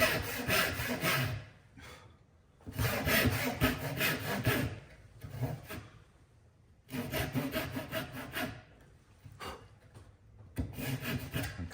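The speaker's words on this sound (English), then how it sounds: "And then a nice relief cut in the middle." Hand saw cutting a relief kerf in wood for a half-lap dovetail joint: four loud bursts of rhythmic rasping back-and-forth strokes, each a few seconds long, separated by short pauses, close and with no talk.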